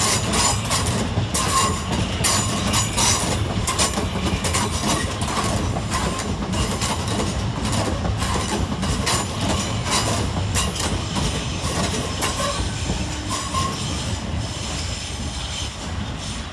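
Southern Railway Class 377 electric multiple units passing through Clapham Junction, a loud continuous rumble of wheels with rapid clickety-clack over rail joints and faint squeals, steady throughout the whole pass.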